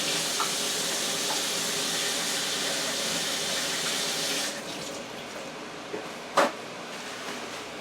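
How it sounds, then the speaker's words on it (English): Tap water runs steadily into a kitchen sink as hands are rinsed, then the flow cuts off, followed by a quiet room and a sharp knock. "Let me just wash my hands."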